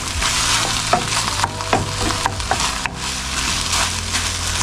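Food being stirred in a sizzling frying pan at a campsite, a steady fry with repeated scraping strokes of the utensil, close and fairly loud, no voices.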